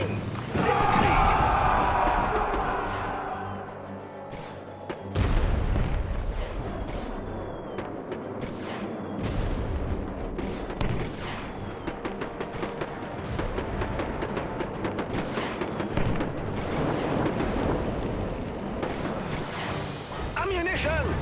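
German mortar squad firing in the World War Armies video game, heavy booming launches and thuds amid battle noise, with voices shouting commands over the action.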